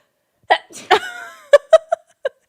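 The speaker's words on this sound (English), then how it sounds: "I thought you were going to say something so important, but instead you sneezed." A single close, sharp sneeze bursts out, with a brief breathy intake before it and a few quick vocal sounds trailing after.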